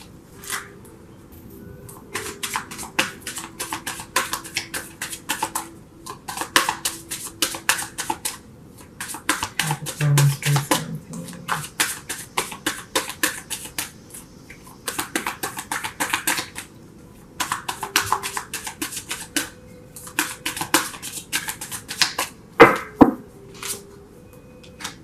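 Tarot cards are shuffled and drawn in repeated crisp bursts of riffling and flicking, close and fairly quiet, with short pauses between rounds and no speech.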